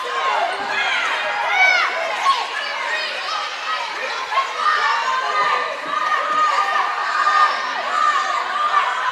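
Spectators in the stands at a women's college basketball game against Assumption jeer the officials, a steady murmur of shouts and chatter filling the gym at moderate volume.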